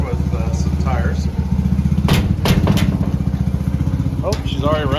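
Small engine on a rat-belt machine chugs loudly and unevenly, its steady low throb breaking up into sputters as it runs out of gas, with people talking over it.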